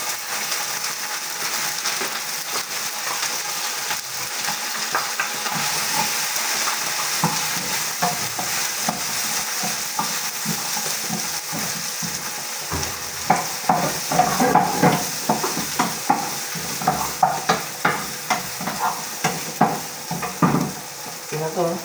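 Onions and potatoes fry in a pan with a bright, continuous sizzle, joined in the second half by frequent stirring scrapes and knocks against the pan, close up and fairly loud, with no talk over it.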